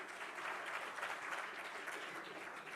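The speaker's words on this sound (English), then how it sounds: "Please, round of applause for Frank." An audience at a conference awards session applauds with steady, even clapping. The sound is faint and distant and carries on without a break.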